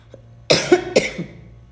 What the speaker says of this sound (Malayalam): വോയിസ് ഓവർ കൊടുക്കുന്നതിലാണ് ചുമ വരുന്നത്.